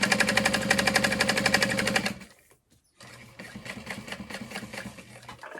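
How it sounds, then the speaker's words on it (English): A sewing machine bastes backpack layers together in a fast, steady mechanical chatter, close and loud, stopping briefly before running again more softly. "So I'm basting all of this together."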